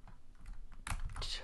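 Keys clatter on a computer keyboard as text is changed in a coding session, a fairly close run of soft clicks that turns denser and louder in the second half.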